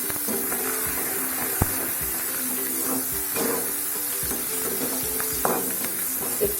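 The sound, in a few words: chopped onions frying in oil with dry chilli and bay leaf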